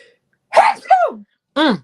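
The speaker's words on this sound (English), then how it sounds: "I got to sneeze." Up close, a person sneezes: a sharp inhaled buildup, then a loud forceful burst with a short voiced tail.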